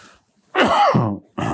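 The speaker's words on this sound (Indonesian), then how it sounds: "Saya sedikit batuk" A single harsh cough bursts out close by after a brief quiet, followed by the start of another short throaty sound.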